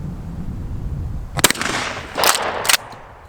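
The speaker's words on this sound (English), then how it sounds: "I'm going to slap 3 slugs in it and engage those water bottles over there." A Winchester 97 pump shotgun fires slugs at water bottles outdoors, with about three loud sharp blasts in quick succession, each followed by a brief rumbling echo.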